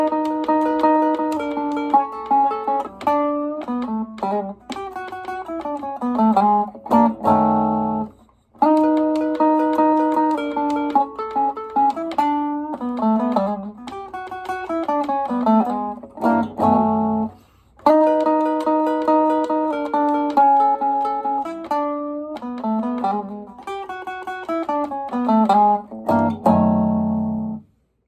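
Clean electric guitar plays a slow Chicago blues turnaround, ringing notes and bends in a relaxed phrase that repeats twice with brief pauses between passes, no talking over it.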